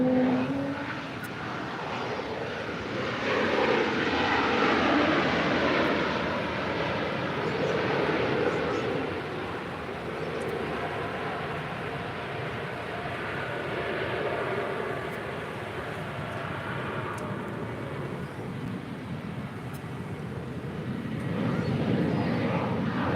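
An airliner on a runway at LAX gives a continuous, broad jet roar that lasts the whole time. It rises slightly early on, then holds steady at a moderate distance with no voices over it.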